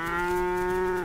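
German black-pied cattle on open pasture give a single long, loud moo that holds steady for about a second before tailing off, close by with no other sounds.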